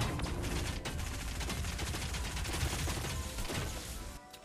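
Rapid gunfire crackles during a spaceship battle in Fortnite Mobile, a dense, continuous volley of shots with sharp impacts that thins out near the end.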